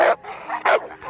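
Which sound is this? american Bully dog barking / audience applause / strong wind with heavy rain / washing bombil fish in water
american Bully dog barking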